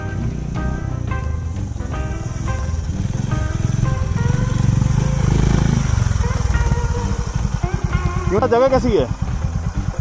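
A Honda Highness CB350 motorcycle rides off-road near a dam, its engine rumbling and swelling as it passes close by, heard under someone talking.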